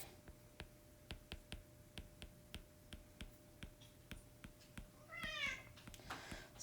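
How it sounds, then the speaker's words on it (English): Cats meowing indoors in the background, a few rising meows near the end after a run of regular sharp clicks, faint and distant. "Sorry about the cats in the background."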